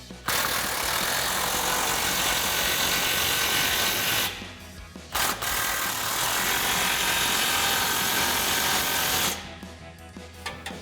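A power tool with a 15mm socket tightens an exhaust clamp on a Magnaflow dual exhaust for a RAM 1500, whirring loud and close in long continuous bursts separated by brief pauses.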